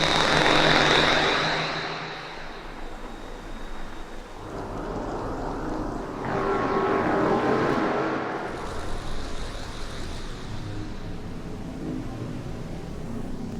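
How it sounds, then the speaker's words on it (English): Synthesized bass sound samples played back in turn, deep droning tones that swell and fade in loud sustained waves with changing texture, no voices. "we're going to be talking about bass sounds."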